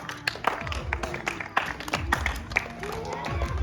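Audience at a kids' ramp walk clapping in a loose, uneven patter, with sharp individual claps standing out over a busy room murmur and scattered voices.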